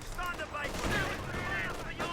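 An LMG in Company of Heroes 2 rattles off a quick burst among other battle sounds, set fairly far back and muffled under a busy soundscape of game effects.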